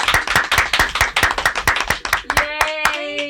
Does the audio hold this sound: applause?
yes